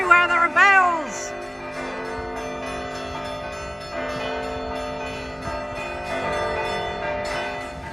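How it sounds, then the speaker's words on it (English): Church bells ring around Piazza del Duomo in Catania at midday, a sustained overlapping clang, with a brief squealing sound near the start and faint voices underneath. "Everywhere there are bells."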